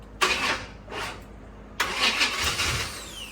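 A Corvette engine cranks in two short bursts, then catches and starts, settling into a rough, uneven idle close by.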